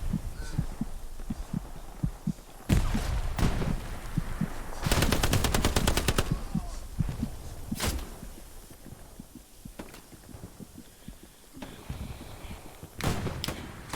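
Machine gun fire in the World War II shooter Hell Let Loose, loud rapid bursts close by with scattered single shots and thuds between them.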